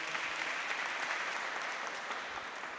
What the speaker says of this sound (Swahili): tuwapigie makofi tafadhali